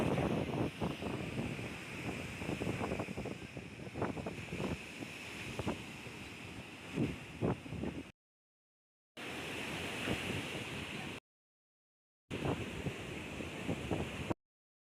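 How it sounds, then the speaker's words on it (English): Wind buffets the microphone outdoors at a beach, roaring and gusting in uneven bursts with surf underneath, broken by short silent gaps. "It's literally windy out here."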